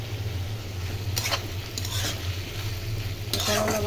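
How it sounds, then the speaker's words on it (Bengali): Bitter gourd frying in a pan, a steady sizzle of hot oil with occasional scraping strokes of a spatula stirring the slices, close and alone without speech. "করলা ভাজি বসিয়ে দিয়েছি।"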